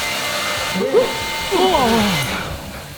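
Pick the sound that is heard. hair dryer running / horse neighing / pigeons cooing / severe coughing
hair dryer running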